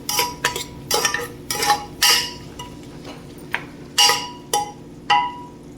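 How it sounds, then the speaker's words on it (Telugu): A spoon stirs onions with turmeric in a pot while biryani is being made, giving repeated scraping clinks of metal against the pot in irregular bursts, close and fairly loud, with no talking. "పసుపు యాడ్ చేసాక ఒకసారి ఇలా కలుపుకోండి"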